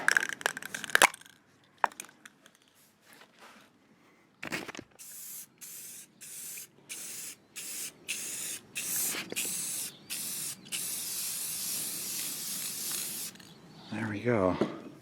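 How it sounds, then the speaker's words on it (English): Clear coat spray paint hisses in a run of quick short bursts onto an aluminum car wheel, close and fairly loud, after some rattling and handling noises. A voice comes in briefly at the end. "So I got my fancy clear coat here."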